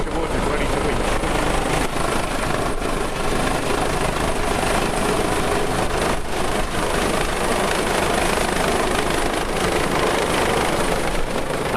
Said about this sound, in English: The helicopter is now making its final approach towards us, ready to winch.